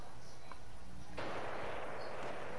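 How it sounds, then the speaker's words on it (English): Gunfire in a video game as someone opens fire on the players: a sharp crack lands midway, followed by a dense burst of noisy rattle, fairly close and loud. "somebody's yeah, shooting at us"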